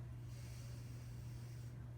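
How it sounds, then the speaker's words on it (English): A patient draws one long, deep breath during a lung exam, a soft airy hiss that swells and fades over about a second and a half, faint and close against a low background hum. "give me a big breath"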